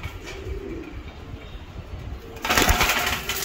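Roller pigeons at a farm coo close by, with low rhythmic coos and a louder burst of rustle or flapping near the end, over a steady background hum.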